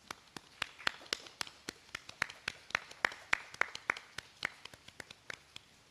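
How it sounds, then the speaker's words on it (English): Audience applause at a Phi Beta Kappa induction ceremony honoring sophomore prize winners: a steady stream of sharp, moderately close hand claps of varying strength, ongoing for several seconds with no talking. "Please join with me in giving them a really heartfelt round of applause"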